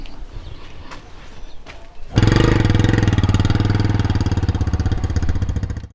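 Motorcycle taxi engine starting up after quiet background noise, then running with a steady throbbing idle, close and fairly loud, cutting off at the end.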